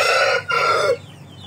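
Indio Gigante chickens, a very large breed, crow loudly and close by in two drawn-out calls with a short break between them, then the sound trails off into quiet.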